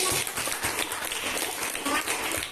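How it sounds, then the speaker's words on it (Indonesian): Students clap together in a classroom, a brief burst of brisk, rapid applause from a group nearby, steady and close for a couple of seconds. "Beri aplaus dulu nak untuk"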